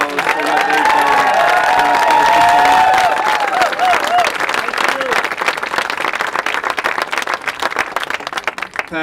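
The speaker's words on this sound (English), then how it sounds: "I think they deserve a great round of applause for what they've done." An audience at a public event in Columbus, Georgia, breaks into loud sustained applause and cheering, the clapping continuing throughout and thinning toward the end.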